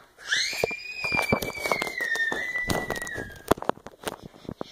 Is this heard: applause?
no